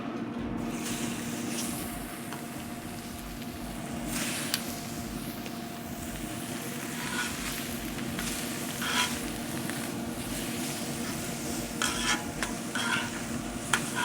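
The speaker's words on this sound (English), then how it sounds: "I'm gonna get these on really quickly and we're just gonna flash in the pan," Bavette steaks sizzling on a hot griddle, a continuous moderate frying hiss with occasional crackles and brief scraping stirs, heard up close and without talk.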